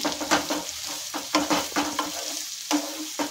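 Mirchi bajji batter items and chopped green chilli and onion frying in hot oil, a close, steady sizzle broken by repeated scraping and stirring strokes, with no talking.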